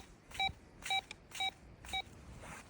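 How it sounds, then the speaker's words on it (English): A metal detector at the Abercrombie River gold field gives four evenly spaced short electronic beeps as hands pass near it, clear against a quiet outdoor background. "That's because your hands set off the detector."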